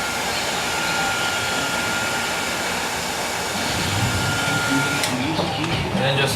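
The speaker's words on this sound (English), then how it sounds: "take a regular monocoque heat gun, let it heat up a little bit." Heat gun blowing hot air onto foam while building an F-14D Tomcat model, a steady airy whoosh running throughout at close range, with a voice heard over it.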